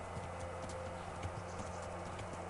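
Horse hooves clip-clop at a steady walking rhythm in the medieval video game Kingdom Come Deliverance, quiet and even under a faint background hum.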